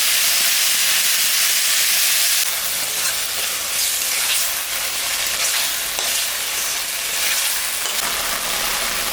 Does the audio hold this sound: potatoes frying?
yes